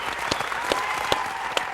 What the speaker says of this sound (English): Swell the applause, Jerry.